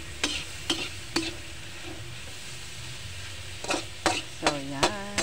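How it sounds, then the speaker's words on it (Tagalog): Steady sizzling of fish frying in a pan, with several sharp clinks and scrapes of a utensil against the pan and a brief tonal squeak near the end. "may isda kaming prito"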